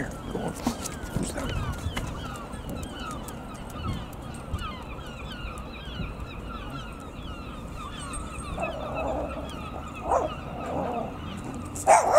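A dog barks and yips outdoors at moderate distance over steady ambient noise, with a few whimpering sounds, no speech.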